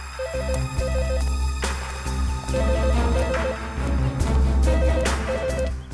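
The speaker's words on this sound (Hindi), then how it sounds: "घंटी की आवाज तो यहीं से आ रही है।" A public call office telephone trills in repeated short bursts over a busy, noisy background with occasional clanks, the ringing clear and fairly close.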